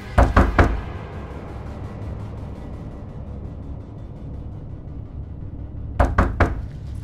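Knocking on a door, with a quick burst of three or four sharp raps at the start and another burst near the end, loud and close over a low room hum.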